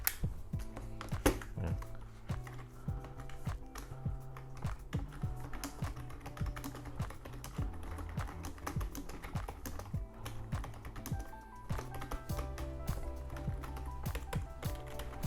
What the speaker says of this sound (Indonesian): button untuk keyboardnya itu rasanya enak sih untuk ngetik sih.